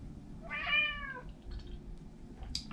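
A cat gives a single clear meow up close, rising and falling over about half a second, followed by quiet room tone with faint soft rustles.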